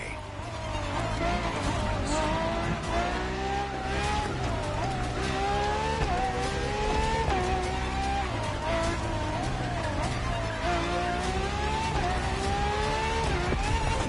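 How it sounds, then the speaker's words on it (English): A Ferrari FXXK race car, a track-only LaFerrari derivative, drives a lap in The Crew Motorfest racing game, its loud engine climbing and dropping through repeated gear changes, with tire squeal and a constant high-revving roar throughout. "For this second lap, you'll be driving the FXXK."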